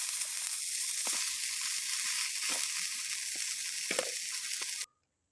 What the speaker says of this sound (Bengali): কড়াইয়ে কিছুটা তেল দিয়ে এর মধ্যে দিয়ে দেব ধুয়ে জল ঝরিয়ে রাখা ডাটা শাক।